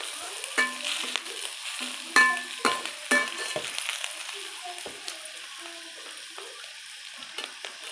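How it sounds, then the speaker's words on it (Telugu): Green chillies cut lengthwise frying in hot oil after bay leaves, a soft steady sizzle with a few sharp spatters and scraping stirs, close and moderately loud. "పచ్చిమిర్చి పొడుగ్గా కట్ చేసుకున్నటువంటి పచ్చిమిర్చిని వేసి వేయించుకోవాలి"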